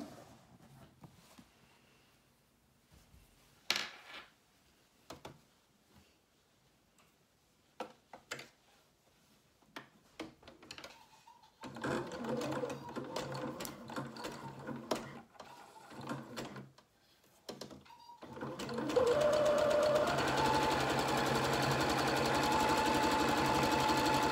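A sewing machine stitches a jersey cardigan, its motor hum starting in short bursts and then running steady and fairly loud for a long continuous seam, with quiet pauses and small handling noises before it.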